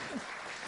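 Brief burst of audience applause in a museum hall, a dense even patter of clapping that fills the moment.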